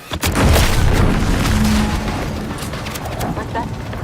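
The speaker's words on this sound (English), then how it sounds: "What's that? An explosion?" A deep explosion boom in The Outer Worlds 2 video game, a heavy low rumble that swells quickly and lingers for several seconds, loud and close, with a voice speaking briefly over it.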